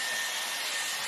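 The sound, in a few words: Dyson Airwrap styler blowing air to dry hair roots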